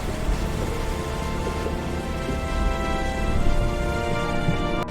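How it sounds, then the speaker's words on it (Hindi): Heavy rain and storm in a Hindi cartoon story about a mermaid at sea, a dense steady downpour with a low rumble swelling midway, loud and continuous with no speech. "बारिश और तूफान के बीच मीरा पानी से बाहर निकली"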